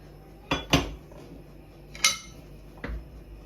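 A pressure cooker lid is opened after cooking daal with whole tomatoes, producing a few separate metallic clanks and clinks, close and fairly loud, with quiet gaps between and no talking.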